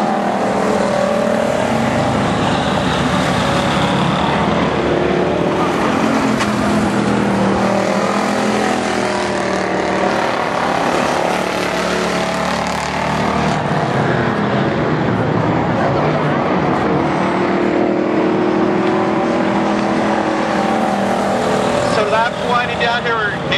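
Pure stock cars running a 100-lap race at Barona Speedway, with a steady, loud roar of several engines droning continuously throughout, a race commentator talking over the racket.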